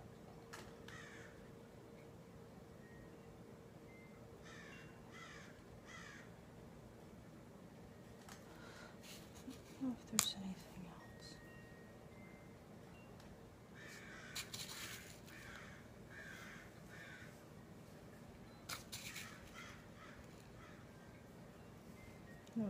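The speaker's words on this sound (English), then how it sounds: "Those little crows." Crows caw outdoors, a few scattered calls at a moderate distance over a quiet, steady background hum, spaced out across the stretch with no talking.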